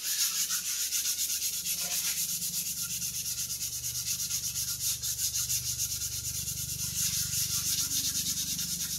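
A 3D printed part being hand sanded with sandpaper, a continuous rhythmic scratchy rasp from quick back-and-forth strokes close up, steady throughout with a faint low hum underneath.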